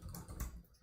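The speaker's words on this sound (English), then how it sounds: "typing password live here on dev" Keys are tapped on a computer keyboard while a password is entered, a short quiet run of a few soft clicks with one slightly heavier keystroke near the middle.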